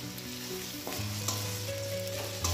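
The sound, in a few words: garlic, onion and green chilli frying in a pan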